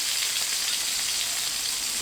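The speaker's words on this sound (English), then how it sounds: "You can hear that sizzling." Ribeye steak sizzles on a hot stone in an Uuni 2S pizza oven, steady and close with a dense crackle that holds at an even level throughout.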